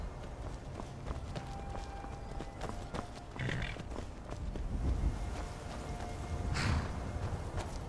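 Quiet hoofbeats of a horse in the video game Skyrim clop along steadily at a moderate distance, with a faint creak and a soft ambient background.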